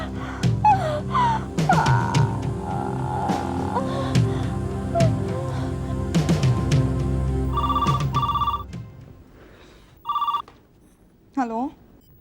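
A telephone rings in a domestic drama scene, giving short electronic ring bursts in the second half after loud dialogue and movement, with a final warbling ring near the end.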